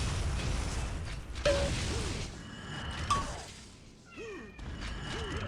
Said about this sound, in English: The cat is excited.